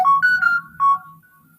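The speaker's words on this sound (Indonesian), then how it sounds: "Ini notifikasi berisik banget nah." Phone notification chime, a few bright rising tones repeated in quick succession, loud and close over a low hum of background game sound during Minecraft building.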